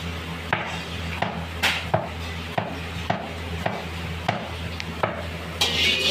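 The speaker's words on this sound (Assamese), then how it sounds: "চাওক গাইজ এইবাৰ কাটিছে কেৰট," A knife chops carrots on a cutting board in quick, evenly spaced strokes, each one a crisp, clear thud. The sound is close and steady, with no talking.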